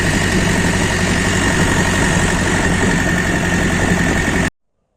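A DTZ 5404 tractor drives while ploughing with a 2-30 plough, its engine giving a loud, steady close drone with heavy vibration before cutting off abruptly.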